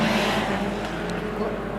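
Race cars at Victory Raceway roaring off the start line together, a loud dense engine drone close by with a commentator talking over it.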